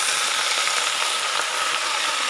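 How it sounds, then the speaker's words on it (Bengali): Leafy greens poured into hot tempered oil give a loud, steady hiss and crackle of frying that holds without pause throughout, close and with no voices. "এই যে শাকটা ঢেলে দিচ্ছি।"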